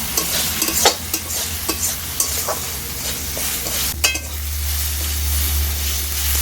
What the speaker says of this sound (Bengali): লঙ্কার সাথে মশলাটাকে আর কিছুক্ষণ কষিয়ে নেব।